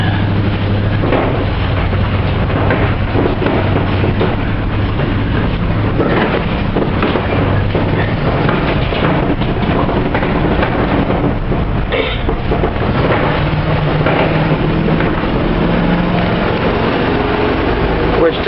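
Grey Ford truck with a 351 Cleveland V8 driving, a steady low engine drone and road rumble heard from inside the cab with wind buffeting across the microphone, continuous and loud throughout.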